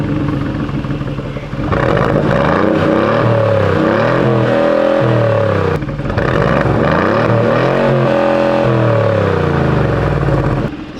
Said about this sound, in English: It still sounds rad until you're next to that one, but you're only like 450-ish horsepower